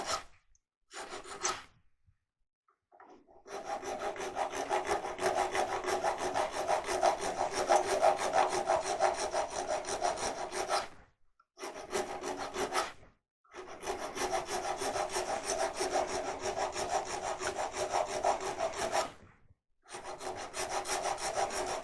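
A file rasps steadily on the stem of a wooden goblet turned from maple, long continuous grinding strokes broken by several short pauses, close up with no talk.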